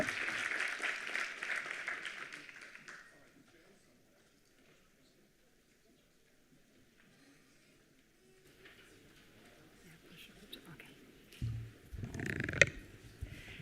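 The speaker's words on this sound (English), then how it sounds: "Please make a warm round of applause for Janine Berg." Audience applause at an international conference on AI and the future of work: a burst of clapping for the next speaker fades out after about three seconds, leaving near silence and then faint room noise.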